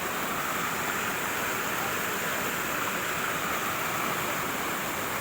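Swift, deep floodwater in a river, a loud continuous rushing roar close by that holds steady without pause and with no voices.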